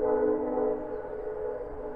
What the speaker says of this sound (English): Hey, you can hear the train.